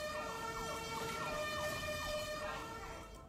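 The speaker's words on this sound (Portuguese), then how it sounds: "Essa sirene deu até medo, meu Deus do céu." An emergency vehicle siren, police or fire, passes by with a loud, continuous wailing tone that sweeps up and down steadily, then begins to fade as it moves away, with street noise underneath.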